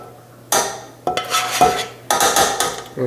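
A spoon scrapes and knocks against a pan while scooping out chicken bacon ranch pasta, giving several separate bursts of clattering metal, close and moderately loud, with a short pause between each.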